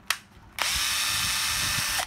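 A used cordless battery drill, with 18 clutch settings plus a drill mode and a fast/slow speed switch, gives a short trigger blip, then spins up and runs steadily at a loud, even whine, close by with no talk.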